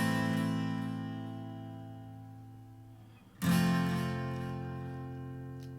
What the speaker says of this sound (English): that just sounds like a guitar with delay on it